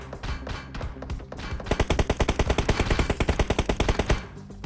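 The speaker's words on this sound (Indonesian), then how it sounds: "Tembak dulu yuk." Automatic gunfire rings out in PUBG Mobile, a few scattered shots followed by a loud, rapid, evenly spaced burst of bangs lasting a couple of seconds, close and dominant with no talking over it.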